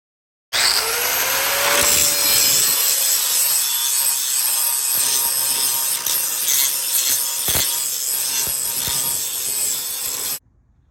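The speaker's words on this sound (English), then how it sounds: "I just grind through till I can start to see a split in the seam." A grinder cuts through spot welds on a 1970 Chevy truck door skin, a steady close whining, rasping grind that runs continuously for about ten seconds before cutting off.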